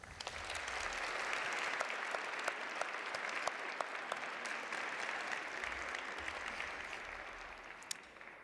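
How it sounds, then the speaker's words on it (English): Graduates applaud at a university commencement ceremony, a dense, steady round of clapping from a large crowd that holds at full strength for the whole stretch without talk over it. "Graduates, please take a moment to show your appreciation to them with a round of applause"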